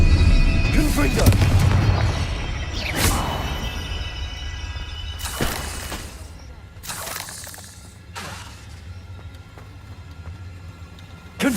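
Confringo explosive spell blasts in Hogwarts Legacy, several loud booming bursts with crashing tails spread across the stretch, heavy low rumble early on, with a voice shouting over the first.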